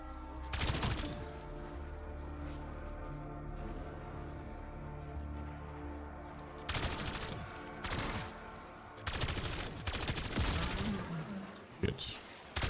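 Video game gunfire during a casual streamed session with friends: repeated bursts of shots and booms over continuous game music and ambience, while players talk over the action.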